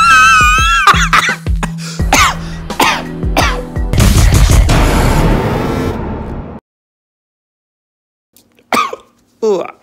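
Several harsh coughs mixed with voices and throat noises, close and loud, followed by silence and a couple of brief bursts near the end.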